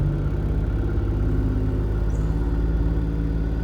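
A 3800 V6 engine swapped into a Pontiac Fiero, running steadily at raised RPM after a misfire repair, giving a close, even, continuous hum and drone with no talking.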